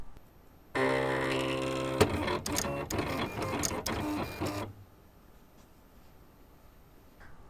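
A Silhouette cutting machine runs a test cut on reflective heat-transfer vinyl, giving a steady mechanical whir with short rhythmic carriage bursts for about four seconds before stopping into near silence.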